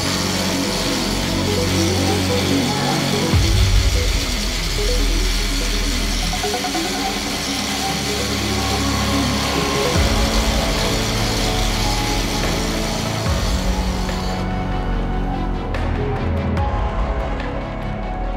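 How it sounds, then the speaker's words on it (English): An angle grinder throws sparks onto a Konecranes synthetic rope at close range in a workshop, making a loud, continuous abrasive whine that shifts in pitch as the load changes and then drops off near the end. "Let's do another experiment and see what happens if we grind at close quarters."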